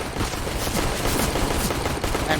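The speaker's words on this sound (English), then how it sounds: "And first blood as gunshots go blazing." CS:GO gunfire on the Vertigo map during a competitive match, a dense, steady burst of rapid shots and noisy action filling the whole moment at high loudness.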